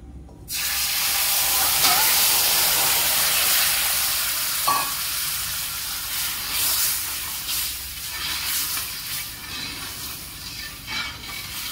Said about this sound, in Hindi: त्यात आपण गुळाचं पाणी ऍड करूया।